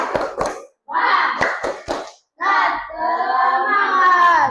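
A classroom of children does the rhythmic 'tepuk semangat' spirit routine, with sharp, loud clap bursts and group chanting that rises into a long shouted cry, all close by.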